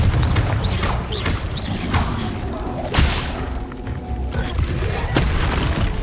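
Incendio and Confringo spell explosions in Hogwarts Legacy, a repeated series of booming blasts and thuds mixed with whooshing effects, loud and continuous throughout.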